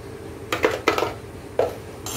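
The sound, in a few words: mixing stuffed chilli filling in a pan with salt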